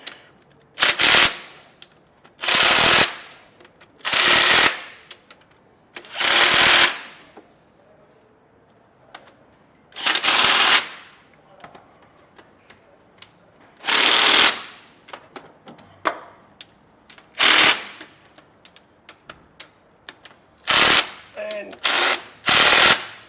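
Loud bursts of a power tool, likely an impact wrench, tightening bolts while installing a part-time 4WD kit on a Toyota 80/100 Series, each burst rattling hard for about a second, repeated around ten times with quiet pauses between.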